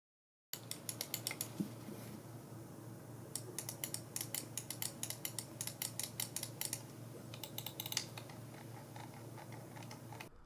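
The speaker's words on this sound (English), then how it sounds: "I'll let you hear what the buttons sound like. These are Omron switches, so have a listen." Sharp Omron-switch mouse button clicks from a Dareu AE6 PRO gaming mouse repeat in quick bursts and pauses, crisp and close against a faint steady background hum.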